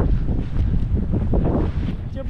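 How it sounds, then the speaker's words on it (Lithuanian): Wind rushes across open mountain tundra in Svalbard in the Arctic, buffeting the microphone with a steady low roar that swells and eases. "Vėjukas šnioja."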